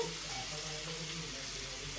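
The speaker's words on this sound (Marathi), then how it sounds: "तोपर्यंत लॉलीपॉप फ्राय होतात" Chicken lollipops fry in a pan of oil with a steady, close hiss and crackle.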